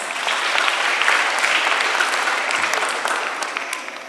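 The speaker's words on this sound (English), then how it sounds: "Please welcome them with a big round of applause." A school audience claps to welcome classmates onto the stage, loud dense applause close by with scattered sharper individual claps, steady before thinning toward the end.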